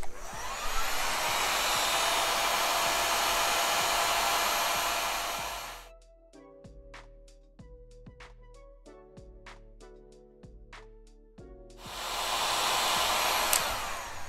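A heat tool blows steadily and loudly while warming a stenciled wood piece coated with Scorch Marker, switching off for a stretch of quiet musical tones before roaring back on near the end.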